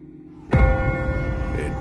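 A single deep bell tolls from The Walking Dead video game, striking loudly after a quiet start and ringing on with a long, humming decay.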